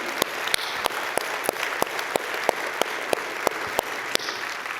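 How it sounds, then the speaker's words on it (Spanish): A church congregation breaks into sustained applause, a dense wash of clapping that stays even for nearly five seconds, with sharp, regularly spaced claps standing out close by. "Dale un fuerte aplauso a Él."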